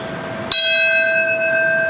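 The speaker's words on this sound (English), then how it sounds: "Bells tolling at the memorial where New York's World Trade Center once stood" A single bell strikes once at the World Trade Center memorial in New York, loud and clear, its ringing tones sustaining and slowly fading.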